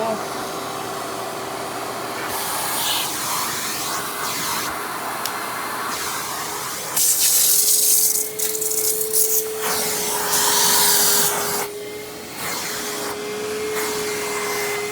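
A Hoover PowerMax Supreme 850 S3609 canister vacuum runs with a steady motor whine and airy rush, its pitch and loudness shifting as suction changes and the nozzle scrubs surfaces, close and continuous, with a voice briefly heard.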